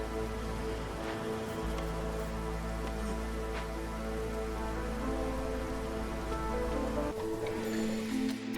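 Drizzle in the video game Against the Storm is a steady, soft hiss of light rain pattering under sustained ambient game music and tones.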